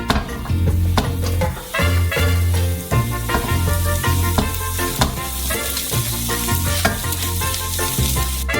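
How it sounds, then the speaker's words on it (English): Vegetables fry in a pan on a stove with a loud, continuous sizzle, crackling bursts and occasional stirring scrapes, close up with no talk. "We'll put some vegetables in one of them."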